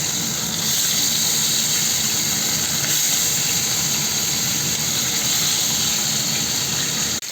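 Fish sizzling in hot mustard oil with turmeric and salt, a dense, steady frying hiss that holds level throughout, close and loud with no talking.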